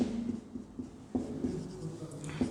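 Chalk or marker writing on a board during a class 10 math lesson, a few scratchy strokes in quick bursts with short pauses, close and fairly quiet, no talk.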